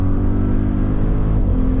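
Audi RS Q8 Performance SUV, 2025, 640 hp, accelerating hard on a racing circuit: a loud, steady, deep engine roar with strong low rumble throughout, heard from inside the car and without talk.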